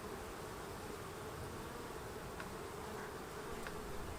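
Honey bees hum in a dense, continuous drone from an open hive during a frame inspection, loud and even throughout, with faint individual buzzes passing near.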